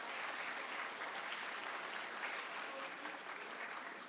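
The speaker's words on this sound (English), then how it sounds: "round of applause" Audience applause at a talk event, a steady, even wash of many hands clapping that holds throughout at moderate, somewhat distant level.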